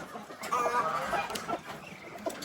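Chickens cluck softly nearby in short, irregular bursts, with faint background noise and no talking.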